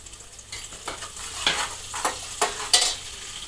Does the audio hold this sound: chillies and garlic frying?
yes